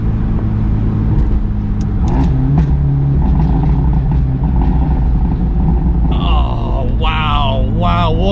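A remapped Abarth 124 Spider pulls hard in third gear, the engine note dense and loud from inside the cabin, with a voice speaking briefly near the end.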